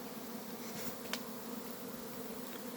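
Honey bees working at their hives make a steady, soft buzzing drone, faint and continuous, with a single bee briefly passing closer.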